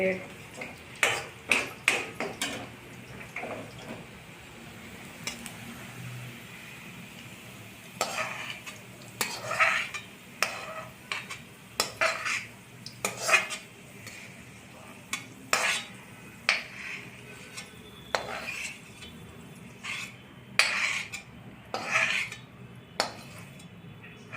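Onion sautéing in oil for a green chickpea curry, with repeated spoon scrapes and clinks against the pan over a soft sizzle, close and busy throughout.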